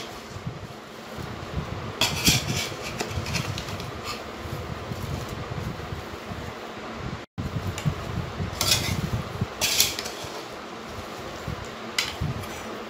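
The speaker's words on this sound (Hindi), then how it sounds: "सारे मसाले हम मिक्स करेंगे।" Dry spices for raw mango pickle being mixed by hand or spoon in a bowl, a steady scraping and rustling with a few sharper clinks of the bowl, close and continuous over a low background hum.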